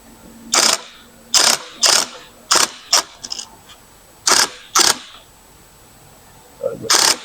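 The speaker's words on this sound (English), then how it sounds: "we're going to use nice little short taps here on the impact wrench" An impact wrench on a Toyota Tundra driveshaft during center support bearing replacement, fired in about eight short sharp bursts with quiet gaps between, close and loud in a workshop.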